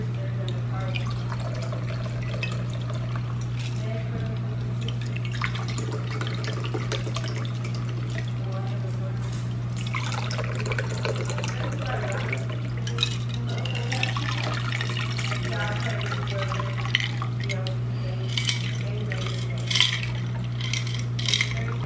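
Cranberry cocktail is poured from a shaker into glasses, with liquid trickling and splashing and faint clinks of glass in an indoor room. Soft voices talk now and then, and a low hum runs underneath.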